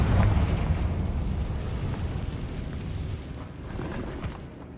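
Fire spell explosion in the Hogwarts Legacy video game, a dense low rumbling boom that swells at the start and rolls on steadily for several seconds, loud and close with no talking.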